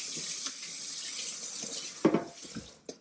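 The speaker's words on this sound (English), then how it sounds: "So see how I add water for mine." Tap water runs steadily as it is poured onto cassava in a blender jar for homemade fufu, a continuous close hiss with a few louder splashes and clunks near the end.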